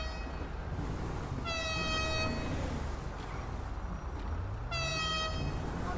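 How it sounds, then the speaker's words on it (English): Car horns honk in city traffic, with two clear, sustained toots about three seconds apart over a steady rumble of street noise, moderately distant and with no talking. "Lots of honking, lots of noises"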